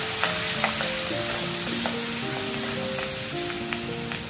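Chopped onions hit hot oil and butter in a pan, raising a dense, steady close sizzle with a few scraping stirs, loud at first and easing slightly toward the end, with no talking.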